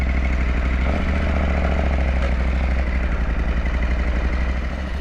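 KTM 890 Adventure R motorcycle engine running close by, a loud, even throbbing idle with a deep pulsing beat and light mechanical clatter, steady throughout.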